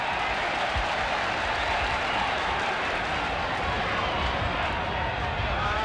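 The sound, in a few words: rugby league stadium crowd cheering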